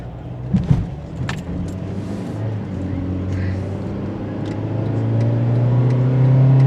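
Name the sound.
car pulling out onto the road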